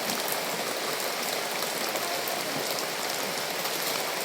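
Heavy rain pours steadily over flooded yards and a waterlogged road near a house, a dense continuous hiss of downpour with no voices.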